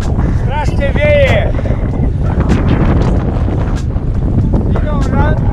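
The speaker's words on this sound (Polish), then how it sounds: "Strasznie wieje." Strong wind roars across the microphone while cycling beside a lake, a loud constant buffeting with a voice speaking over it.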